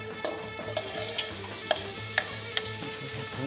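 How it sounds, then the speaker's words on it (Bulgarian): Onion sizzles in a few spoonfuls of oil in a pan, a steady close frying hiss with occasional sharper crackles and stirring clicks, no talking. "Ще се пържи."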